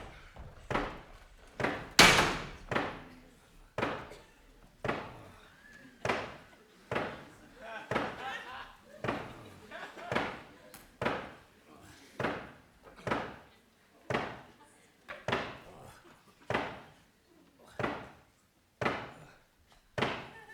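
Knocking on a door during a Globe Theatre performance of Macbeth, a long series of heavy, resonant thuds repeated at a steady beat for about twenty seconds, loud and echoing.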